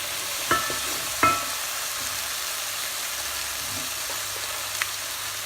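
Tomato paste frying in a soup pot for a vegan minestrone, a steady hissing sizzle throughout with a few faint clicks and taps of a utensil against the pot.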